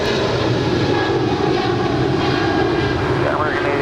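An airliner landing at Los Angeles LAX gives off a loud, sustained engine roar that fills the whole stretch, with faint voices mixed in beneath.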